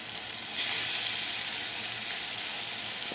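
Food sizzles steadily in a hot pan, a soft continuous hiss that swells slightly after the start, with no voices.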